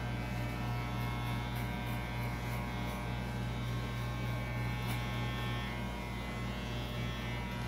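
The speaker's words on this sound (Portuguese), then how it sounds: "Onde eu estou passando a máquina." An electric hair clipper hums steadily and continuously while cutting a low fade, a close, even buzzing drone with faint brushing texture and no pauses.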